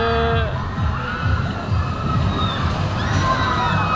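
Riders scream together on a tall amusement ride, their shrill cries blending with a noisy crowd. The loud screaming keeps up throughout, with higher shrieks rising above the general din.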